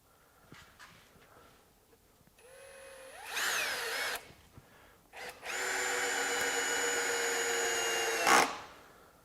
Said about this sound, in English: let's go ahead and try out the drill here and driving some screws as well